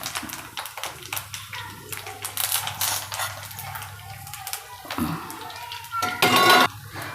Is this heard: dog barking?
no